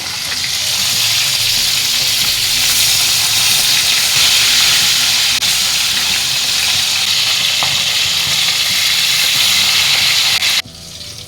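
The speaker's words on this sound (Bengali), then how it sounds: "এখানে আমি তিনটে মাছ দিয়ে ভাজছি" Three marinated bata fish fry in hot oil, a loud, dense sizzle holding steady throughout before dropping away abruptly at the very end.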